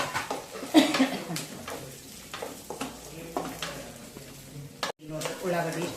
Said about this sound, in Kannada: ಉಳ್ಳಾಗಡ್ಡಿ ಇಷ್ಟು ಫ್ರೈ ಆದರೆ ಸಾಕು.